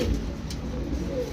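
Soft, low pigeon cooing murmurs steadily through the clip, several birds overlapping against a faint background hum, no voices.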